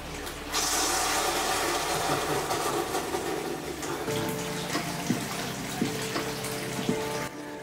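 Hot mountain spring water pours steadily into a ryokan bath in Hakone, a close continuous splashing rush that softens slightly toward the end, with no voices.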